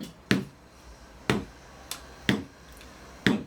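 A hand tapping a simple rhythm on a small table, four sharp, evenly spaced knocks about a second apart, close and clear with no talk.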